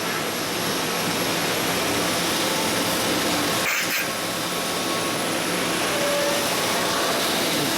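A Vincent palm screw press driven by a 3 horsepower electric motor gives off a loud steady broadband roar and whine, constant throughout with one brief dip partway through.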